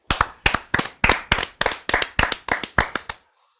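About ten sharp, evenly spaced claps ring out loud and close at a brisk rhythm, then stop abruptly, with no talk over them.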